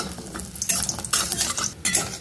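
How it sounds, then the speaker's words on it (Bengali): Bori lentil dumplings fry in hot oil in a kadai, a steady close sizzle broken by scraping and stirring clinks of a utensil against the pan, with no voices. "এবার আমি কয়েকটা বড়ি, বেশি না অল্প কয়েকটা বড়ি আমি ভেজে এর মধ্যে থেকে তুলে নেব।"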